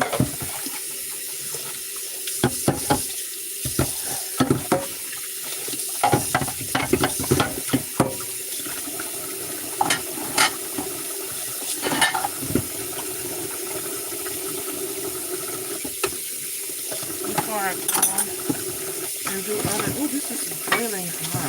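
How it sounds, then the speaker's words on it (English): Dishes are washed in a kitchen sink under running tap water, with steady splashing, clinking and scrubbing throughout and occasional faint talk in the background. "So I want to wash these dishes."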